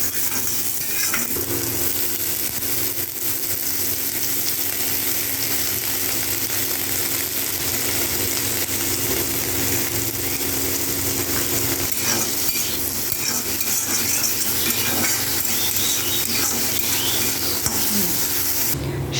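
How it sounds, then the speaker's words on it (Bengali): Eggplant and neem leaves fry in hot oil, giving a steady, close, even sizzle with faint rustles and scrapes of stirring, and no talk. "নিম পাতা ভেজে নেব।"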